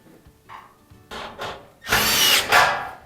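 A power drill drives the bottom bolts of a Whirlpool dryer, with several short whirring bursts, the last two loudest and closest.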